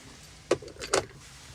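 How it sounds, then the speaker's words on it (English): A car door on a 2021 Nissan Almera Turbo 1.0 VLT swings shut, giving two short thuds close by in a quiet interior. "let's close the door and start the car"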